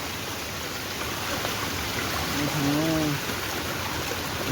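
Floodwater rushes fast beneath a village bridge on the swollen Rainsua river, a loud, unbroken roar with a brief voice rising faintly over it midway.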